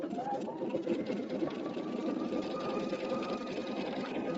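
Pfaff sewing machine running steadily through a tack-down stitch, a continuous close mechanical whir with a faint high tone, even and unbroken throughout.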